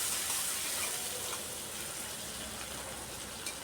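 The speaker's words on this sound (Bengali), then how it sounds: "এটাকে হালকা ভেজে নেব" Sliced onions and a few garlic cloves frying lightly in a pan, giving a faint, steady sizzle with soft hiss and occasional stirring, with no talking.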